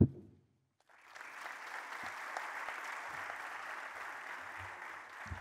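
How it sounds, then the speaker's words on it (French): After a brief silence, an audience at the closing session of Morocco's National Industry Day at UM6P in Benguerir breaks into steady, moderately distant applause that holds evenly to the end. "Sous vos applaudissements"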